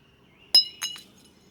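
A piggy bank struck with a small hammer: one sharp, bright crack followed a moment later by two quicker clinks of breaking pieces, close by with no talking.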